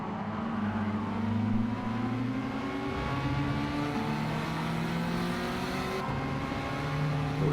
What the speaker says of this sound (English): Sounds like a race car.